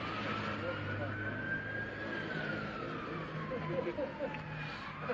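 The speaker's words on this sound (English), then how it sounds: "lots of sirens going on" Faint ambulance sirens wail in the distance, rising and falling over steady traffic rumble and a low background murmur.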